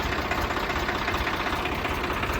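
A Swaraj 855 tractor engine idles steadily and loudly nearby, a dense continuous rumble with no voices over it.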